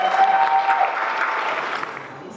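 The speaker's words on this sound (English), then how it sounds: "How about a round of applause?" An audience at a breast health event gives a short burst of applause that fades after about two seconds, with a faint tone briefly audible at the start.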